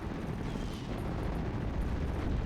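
Artillery counter-barrage in a WWII strategy war game featuring 21st Panzer forces, a dense continuous roar of explosions and booming shell impacts rumbling steadily throughout, loud and unbroken with no talk.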